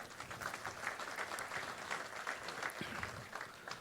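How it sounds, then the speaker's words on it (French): Audience clapping steadily at a business evening awards gathering in Saint-Estève, a dense, continuous patter of many hands that holds at an even level for several seconds. "On peut l'applaudir aussi."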